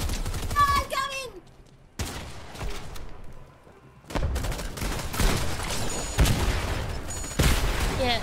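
Fortnite gunfire in bursts: a sharp volley near the start, a short lull, then sustained heavy rapid shots and booms dominating the second half, with a player's voice briefly shouting early on.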